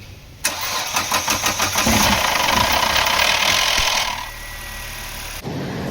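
A Mahindra Thar engine with a fault and its engine warning light on cranks with a rapid pulsing rhythm, catches, and runs loudly up close before easing down to a quieter idle; no one speaks.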